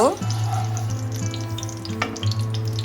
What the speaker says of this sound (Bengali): এখানে দু চামচ পরিমাণ ঘি দিয়ে দিলাম একটু নেড়ে নেব